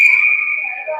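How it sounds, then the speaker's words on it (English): An ice hockey referee's whistle at a faceoff gives one clear, steady blast lasting about a second, with no other sound around it. "Whistle, looking for fair faceoffs."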